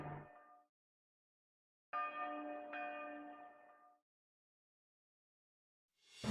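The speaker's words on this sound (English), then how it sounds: "bells ring as you walk through Makanu." Bells chime in the town of Makanu in the video game .hack//G.U. Last Recode, with a few separate tolls that ring out and fade between gaps of silence, clear and moderately faint.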